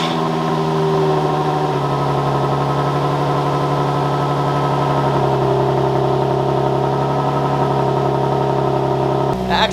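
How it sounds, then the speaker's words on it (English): An Infiniti G35 coupe fitted with resonated test pipes idles steadily and loud and close, a constant engine drone with a brief sharp change near the end. "So let's go ahead and turn on the car."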